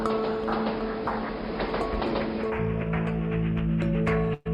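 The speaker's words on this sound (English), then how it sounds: "As the train began to pull out of the station," A train pulls out of a station with a continuous rolling rumble and clatter of the railway cars. It shifts in tone partway through and holds fairly loud and steady, with no voices.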